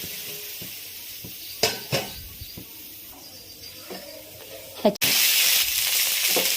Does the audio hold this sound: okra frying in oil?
yes